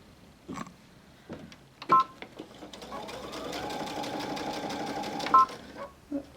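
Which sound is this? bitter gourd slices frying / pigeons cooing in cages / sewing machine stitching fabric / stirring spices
sewing machine stitching fabric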